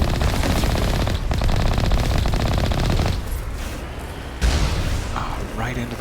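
Heavy gunfire in the Mass Effect video game during a fight against Geth, dense rapid automatic bursts and impacts, loud and continuous with brief shifts in intensity.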